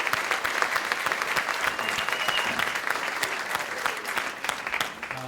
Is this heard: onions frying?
no